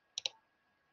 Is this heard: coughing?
no